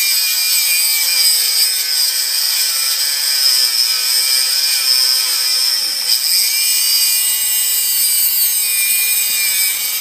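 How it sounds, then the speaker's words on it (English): A Dremel rotary tool grinds against a stuck, rusted brake rotor, producing a loud, continuous high-pitched whine that holds steady and close for the whole stretch with no voices. "This is the tedious part here. Dremel tool."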